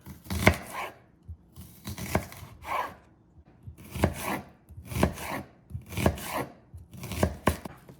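A knife slicing onions on a cutting board for smash burgers, with crisp, close chops landing in quick clusters separated by short pauses, no voices.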